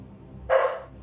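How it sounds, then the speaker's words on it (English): A single sharp dog bark, close and fairly loud, cuts in briefly over a quiet room hum. "Speaking of barking and the doggies, here they are."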